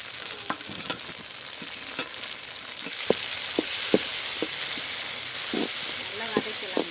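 Onions and tomato frying in a pan for a village-style meal maker egg gravy, a continuous close sizzle broken by repeated spatula scrapes and knocks against the pan at irregular intervals.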